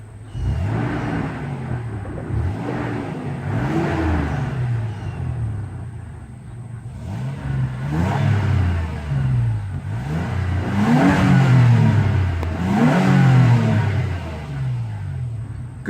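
A 2001 Toyota Tacoma V6 is revved several times from idle, each rev rising and falling in pitch, the later ones louder and quicker, with a deep rumble at close range and no talk.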